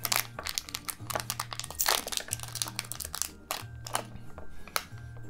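Plastic crinkles and rustles up close in repeated bursts as a bag is handled and pulled open, with a low hum in the background.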